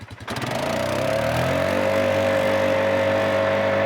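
A Polaris ATV engine in high gear and all-wheel drive revs up from a start and holds a loud, steady drone as it accelerates nearby, with no talk over it.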